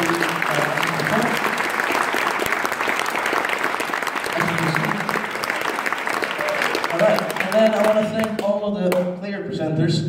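A live event audience gives sustained applause honoring CCP Mimic, CCP Parashar and CCP Fozzie, a thick, continuous roar of clapping with a voice speaking over it near the end.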